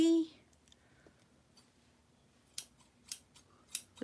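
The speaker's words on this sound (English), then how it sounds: "These are grandma's scissors right here." Old scissors snip cloth with a few sharp metallic clicks, close and distinct, spaced irregularly after a quiet stretch, with no talk during the cuts.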